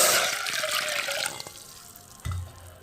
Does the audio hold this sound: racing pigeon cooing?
no